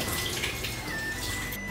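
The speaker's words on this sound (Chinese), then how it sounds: "再把鱼清洗干净" Sea bass being rinsed clean under a running tap, a steady broadband rush of water flowing for under two seconds, close and moderately loud with no voices.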